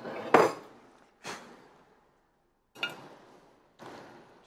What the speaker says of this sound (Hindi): अब मैं इसे डिश आउट करूँगा